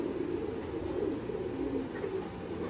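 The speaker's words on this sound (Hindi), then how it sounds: "असल नस्ली कबूतर है।" Soft, low coos of a Sialkoti pigeon repeat in a gentle rhythm, with a faint high tone drifting above them.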